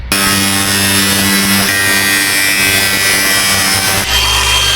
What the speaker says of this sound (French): Maintenant, petit coup de disqueuse ici pour faciliter le pliage.